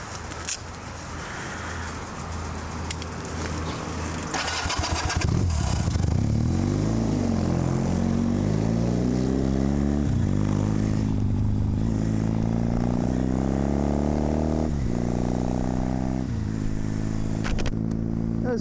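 A Kawasaki KZ400 motorcycle from a tracker build cranks over and fires up about five seconds in, then runs loud and close with repeated throttle revs rising and falling over a steady idle.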